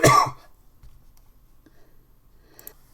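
One short, loud cough bursts out at the start, followed by near silence with a few faint clicks.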